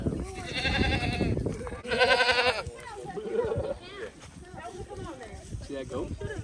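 Goat at a farm-animal birthday gathering, giving two loud, close bleats one after the other, followed by people talking nearby.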